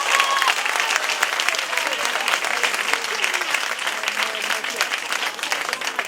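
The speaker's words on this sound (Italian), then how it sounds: "mi raccomando di far loro un bellissimo e lunghissimo applauso" Loud, sustained applause from a theatre audience for the cast of a stage comedy in Rocca San Felice, dense clapping continuing steadily throughout with a murmur of crowd noise underneath.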